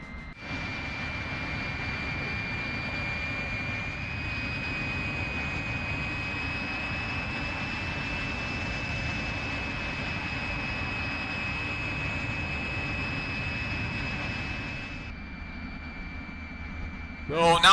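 Fiat G-91 jet in Microsoft Flight Simulator spinning up on the ground, a steady, loud turbine roar with a sustained high whine that holds evenly, then drops to a quieter idle hum near the end.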